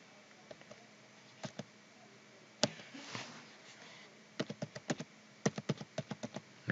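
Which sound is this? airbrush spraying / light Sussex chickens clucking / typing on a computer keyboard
typing on a computer keyboard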